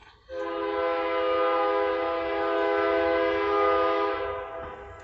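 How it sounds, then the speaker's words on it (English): A train horn sounds outside an open window, one long steady harmonic blast of about four seconds, fairly loud and slightly distant, then fading away. "And as the train horn honks, it's absolutely beautiful."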